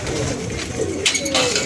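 Pigeons coo near the microphone as they are fed, giving soft, low, throaty calls over a busy background with light rustling and faint voices.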